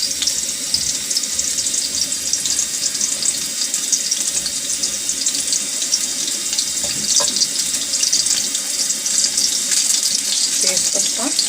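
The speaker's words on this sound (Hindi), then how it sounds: "देखिए ऑयल गरम हो गया है। प्याज डाल देंगे।" Chopped onions go into hot oil for chicken biryani, giving a loud, steady, watery hiss and sizzle that runs without a break from start to finish.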